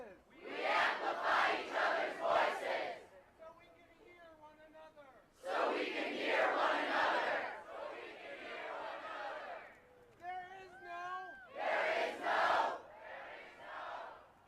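A flash-mob crowd chants in loud unison bursts that come in waves, each phrase echoed row by row, with quieter gaps between them where single raised voices carry.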